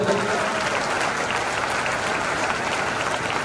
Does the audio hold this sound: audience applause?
yes